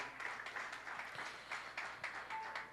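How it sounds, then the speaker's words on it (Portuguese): A church congregation claps for Jesus during an online worship service. The applause is faint and distant, with a steady patter of hands that swells in small waves. "dê uma rica salva de palmas para o Rei Jesus"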